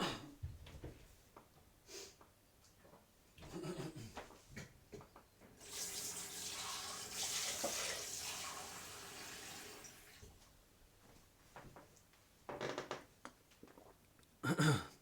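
Tap water runs into a glass in a kitchen, a steady rushing stream lasting several seconds in the middle, with scattered clinks and handling noises before and after.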